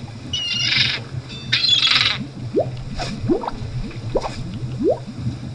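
Squawks and chirps from a bird in the pirate adventure game The Secret of Monkey Island, a few short rising calls and squeaky bursts over a low game-music hum, fairly close and moderately loud.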